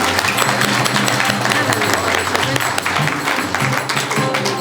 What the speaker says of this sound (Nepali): सबैले जोरदार ताली बजाएर एक बार सम्मान गर्नुहोस्।